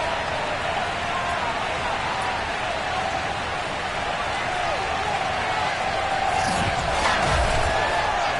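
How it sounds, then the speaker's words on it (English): Sold-out stadium crowd in Madden NFL 22 on PS5, Bills hosting the Jets with rain falling, makes a steady distant roar and cheer that runs under commentators talking. "a moment ago they entered to the delight of this sold-out crowd"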